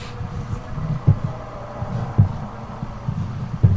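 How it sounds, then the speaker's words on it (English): Heartbeat in the video game Amnesia: The Dark Descent, a low, muffled double thump repeating about once a second, steady and close under a dim background hum. "I hear a heartbeat though."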